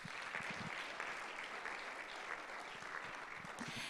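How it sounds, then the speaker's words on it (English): A round of applause from an audience at an annual review event, a faint, even blanket of many hands clapping heard from a distance, with no talking. "let's hear another round of applause for them."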